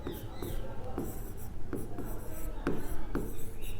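Chalk or marker strokes on a classroom board during a chemistry lesson on normality, with repeated short scratchy strokes in a steady rhythm, close and clear over faint room noise.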